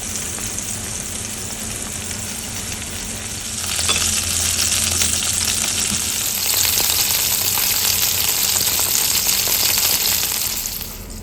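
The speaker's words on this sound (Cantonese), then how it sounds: "豆腐就煎好啦。" Tofu pan-fries in hot oil with a loud, steady hiss and crackle that swells about a third of the way through and holds, with a few stirring scrapes, close and continuous.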